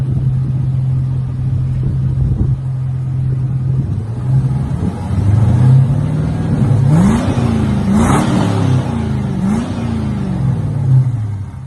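A Holden Calais with a new motor idles steadily nearby, then its engine is revved several times, the pitch climbing and falling in short bursts before easing back to idle.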